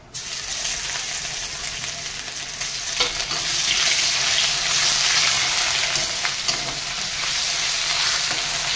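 Garlic paste sizzles loudly in hot oil with bay leaf and a little dried red chili, a steady, bright frying hiss that swells slightly midway, with faint scraping stirs and no voices.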